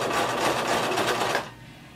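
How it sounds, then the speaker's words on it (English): A sewing machine runs a steady stitching burst along a denim skirt waistband, backstitching, its rapid needle chatter loud and close for about a second and a half before cutting off. "So I'm going to lower my needle, begin sewing, backstitch,"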